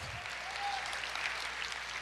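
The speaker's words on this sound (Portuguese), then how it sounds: "Aplauda o Senhor." A church congregation claps together in a brief, distant-sounding wash of applause, soft and even, with a faint murmur of voices underneath.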